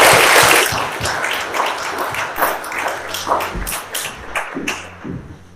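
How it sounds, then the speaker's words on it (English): An audience at a Christian preaching event applauds to welcome a guest speaker, with steady clapping and scattered thumps that stay loud throughout before gradually thinning out. "So let's welcome him with an applause"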